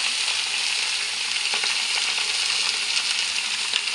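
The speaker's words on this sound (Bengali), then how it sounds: "দিয়ে আমি একটু এটাকে কষিয়ে নেব নুন হলুদ দিয়ে" Mixed vegetables sautéing in a pan with salt and turmeric give a loud, dense, steady sizzle throughout, with faint stirring scrapes now and then, close up and with no voices.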